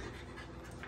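A dog pants quickly and steadily up close in a hotel room, a continuous rapid breathing rhythm with no talking over it.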